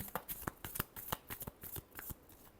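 A deck of tarot cards is riffled and shuffled by hand, giving a quick run of soft, crisp flicks and slaps. The shuffling is close, quiet and not covered by talk.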